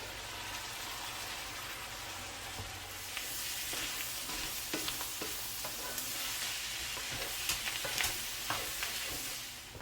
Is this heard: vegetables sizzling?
yes